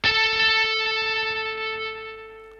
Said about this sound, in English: This distortion can still be very, very harsh, but there is a logic to it